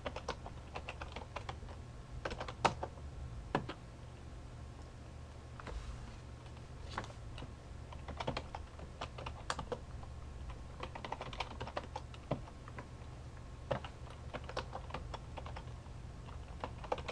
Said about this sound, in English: So from here we're going to type in service password hyphen encryption.